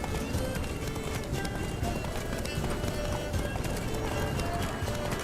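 Geralt's horse Roach gallops in The Witcher 3: Wild Hunt, with a fast, steady clip-clop of hooves under continuous game music and ambience, and a brief whinny-like tone, loud and close throughout.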